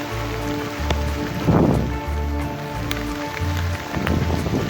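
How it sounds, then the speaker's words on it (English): Steady rain falls outdoors by a pond near a house, a dense continuous hiss with a few heavier swells and faint low hum, no voices. "the rain is picking up again."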